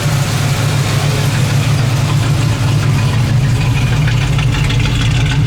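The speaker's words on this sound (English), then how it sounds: "It's got a nice choppy idle to it." A restored 1965 Chevelle engine idles steadily with a choppy, lumpy low rumble, loud and close throughout, with no talking.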